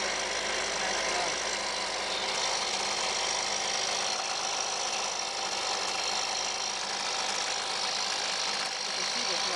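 A Husqvarna 125B leaf blower's small two-stroke engine runs steadily after a cold start, a loud continuous buzzing drone close to the microphone with little change over the full length.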